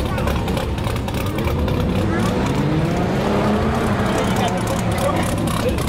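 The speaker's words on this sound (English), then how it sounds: "Yeah, we're revving up." Car engine revving at a classic and exotic car gathering, a steady loud engine drone with rising and falling revs throughout, heard nearby with people talking over it.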